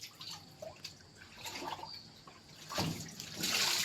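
Water splashes and drips as a child washes with soap while bathing outdoors in sunlight, light irregular sloshing that swells louder toward the end, no voices.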